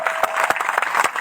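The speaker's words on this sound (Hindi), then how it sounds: "उनके लिए भी तालियां होना चाहिए।" Brief burst of audience applause at an outdoor village celebration, a dense spread of close hand claps at a steady level.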